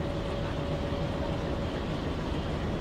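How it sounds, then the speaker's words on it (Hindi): WDM3A rebuilt diesel locomotive from Broadgauge Production, driven in the MSTS Open Rails simulator: a steady, dense engine rumble with a faint tonal whine, continuous and unchanging, with no voices. "ये जो लोकोमोटिव मैं अभी चला रहा हूँ ये ब्रॉडगेज प्रोडक्शन जी का लेटेस्ट लोकोमोटिव है, WDM3A रीबिल्ट।"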